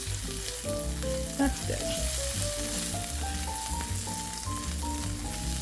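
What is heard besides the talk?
onions sizzling while sautéing in Instant Pot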